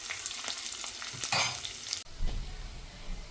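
Vegetables sauté in a pan for semiya upma, a lively sizzle broken by repeated stirring and scraping strokes, with a sharper clatter midway and softer frying afterward.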